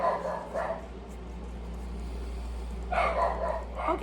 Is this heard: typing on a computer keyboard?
no